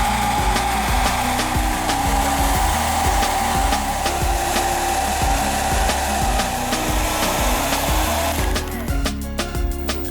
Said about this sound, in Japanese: 私はドライヤーを使います